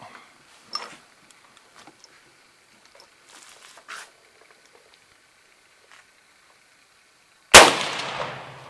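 A single loud, sharp gunshot from an 1895 Chilean Mauser bolt-action rifle cracks out near the end and rings off briefly, after a quiet stretch with faint handling clicks and rustles.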